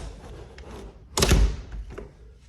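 An original-style door pushed shut, giving one loud, close thud with a brief rattle amid quiet room noise.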